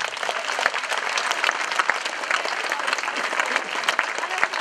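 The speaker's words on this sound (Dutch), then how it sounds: "een groot applaus voor iedereen die vannacht gelopen heeft." A crowd applauds everyone who walked through the night at an event, loud dense clapping filling the whole stretch with occasional sharper individual claps and some voices mixed in.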